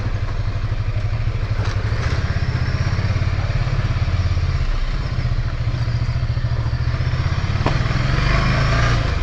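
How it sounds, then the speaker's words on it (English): A 2024 Ducati Scrambler 800 motorcycle engine drones steadily and loudly while being ridden, a close, even rumble with a fast pulsing beat and wind noise throughout. "Don't rev in too much because it will definitely do a wheelie."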